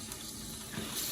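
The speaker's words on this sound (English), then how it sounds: "See if we have water." Water runs from a newly repaired and replaced kitchen faucet, a faint, steady hiss heard on its own without speech.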